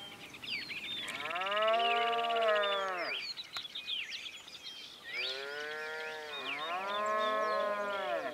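Cattle moo loudly nearby at a rural farm with corrals and trees, two long drawn-out calls separated by a short pause, with faint birdsong in the background.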